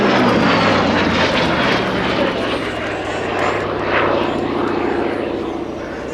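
A Hawker Sea Fury T Mk.20 two-seat piston fighter thunders close by with a loud, steady, gritty propeller-engine roar that holds strong throughout without letting up.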